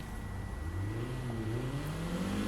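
A 2006 Lotus Exige S in the racing game Need for Speed Heat accelerates with a steady, rising engine drone that climbs in pitch throughout, close and continuous with no talking.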